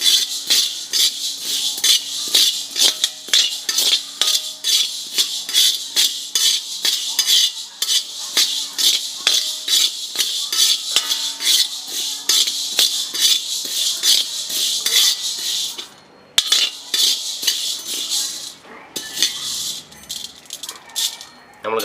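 Urad dal dry-roasting in a pan over low heat gives a continuous dry rattle and rapid metallic scraping as it is stirred, with a brief pause midway before the rattling resumes.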